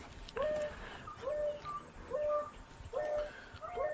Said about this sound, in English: there's a bird that keeps calling during this call